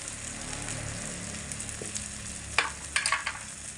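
Papaya and potato stir-fry in a pan with red chili powder, salt and turmeric, an even sizzle broken by a few quick scraping strokes of a spatula toward the end.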